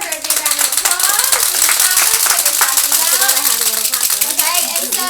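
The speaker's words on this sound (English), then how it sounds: "Y'all give her a big round of applause." Applause from an audience at a business training event honoring an award winner, steady dense clapping throughout with cheering voices and whoops mixed in.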